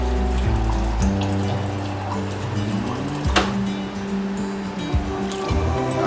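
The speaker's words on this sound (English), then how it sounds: "Fill me up a cup of water." Water from a dispenser pours steadily into a cup in a home kitchen during soup cooking, a continuous rushing fill over a low steady hum, close and fairly loud.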